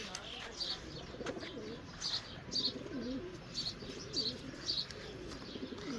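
Pigeons kept by a fancier coo in soft, low repeated phrases, a steady murmur with brief chirps mixed in, moderately near and alone without talk.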